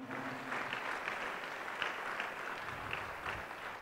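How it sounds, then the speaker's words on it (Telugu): Applause welcomes godparents during a Sunday Telugu church mass in Hyderabad, a steady wash of clapping from a congregation held at moderate volume throughout. "చప్పట్లతో వారిని ఆహ్వానిస్తామా?"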